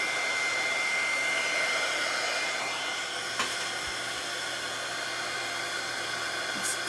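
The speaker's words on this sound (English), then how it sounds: "See how the heat tool is giving us some color?" A handheld heat tool blows hot air steadily onto a primitive Halloween craft centerpiece, a constant loud whooshing roar like a hair dryer that holds evenly throughout with only slight changes in pitch.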